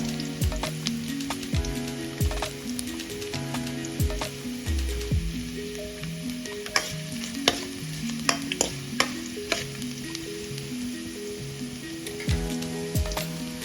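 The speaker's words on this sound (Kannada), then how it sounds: "ಇದೊಂದು ಸ್ವಲ್ಪ ಫ್ರೈ ಲೋ ಫ್ಲೇಮಲ್ಲೇ ಇಟ್ಕೊಂಡು ಮಾಡಿ" Chicken pepper dry sizzles steadily in a pan over a low flame, with repeated scraping stirs and the clink of a spoon against the pan throughout. No one speaks.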